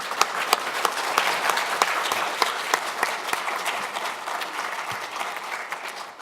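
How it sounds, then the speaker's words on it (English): An audience at a hospital Parkinson's talk applauds steadily, a dense, even round of clapping from a crowd in a hall, with no talk over it. "How about one last round of applause?"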